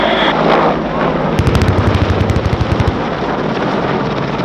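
A rapid burst of simulated gunfire rattles out during an airshow display at RAF Cosford, a fast string of sharp pops lasting about a second and a half over the steady roar of an aircraft engine.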